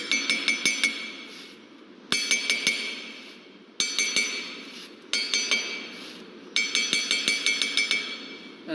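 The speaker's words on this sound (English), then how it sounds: "Now expel out the entrapped air by shaking the mold." Concrete mold shaken by hand to drive out trapped air, giving bursts of sharp metallic clinks and rattles in quick rhythmic clusters, loud and close, with brief pauses between shaking bouts.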